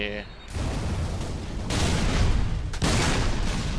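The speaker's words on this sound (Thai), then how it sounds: "ระเบิดแรงแท้" Heavy explosive blasts in Halo 3: ODST boom in succession, a rumbling roar surging up sharply twice after an initial burst, loud and close.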